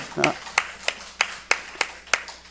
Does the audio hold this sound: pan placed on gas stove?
no